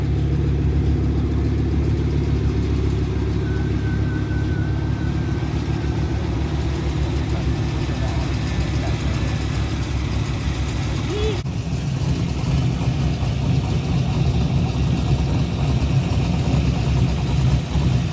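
An overheating car engine idles close by, a deep steady rumble that continues unbroken for the whole stretch.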